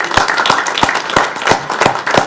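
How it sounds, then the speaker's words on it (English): Audience applause at a San Clemente city council meeting, a brisk burst of clapping from a room of people, steady and fairly loud with individual claps standing out. "please give her a round of applause"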